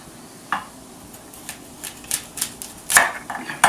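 A kitchen knife slices the ends off carrots on a cutting board, giving a handful of sharp, separate clicks and taps against the board, close and fairly quiet, with no talking.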